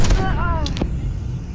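A ZRG 20mm sniper rifle fires once in a first-person shooter, a single loud, booming shot that opens the clip and rolls into a short decaying tail, with a faint sound effect trailing after.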